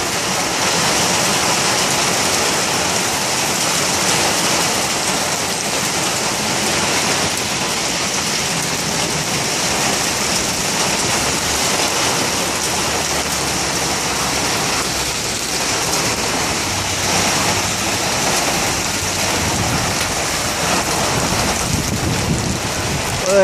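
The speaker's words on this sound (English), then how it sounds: "Bad rain out of nowhere." Heavy rain pounds down in a sudden downpour. Dense, loud, continuous hissing and splattering carries on without a break, with low rumbles of thunder mixed in and no voices.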